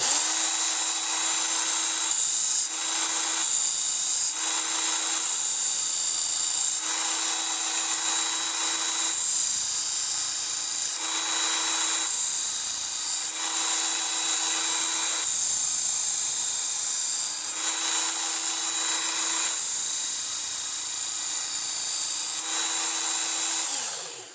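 Coarse-grit sharpening of a butterfly knife edge, a high, hissing grind that runs in repeated passes of a few seconds each with brief gaps between, close and fairly loud, with no talking.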